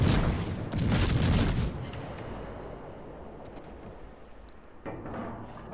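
Warship guns in World of Warships fire shells in a heavy booming salvo, followed by a long rumbling decay and a further softer thud near the end.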